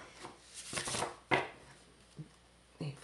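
Tarot cards are shuffled by hand in a few quick riffling bursts followed by soft taps and slaps, close and fairly quiet, with pauses between the movements.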